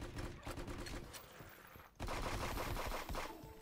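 Rapid bursts of gunfire from a turret in a video game, a dense crackling fusillade that pauses briefly and then resumes louder, with faint voices underneath.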